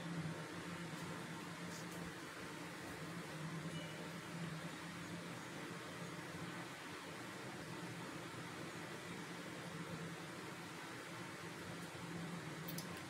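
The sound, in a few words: kurdaya crisps frying in hot oil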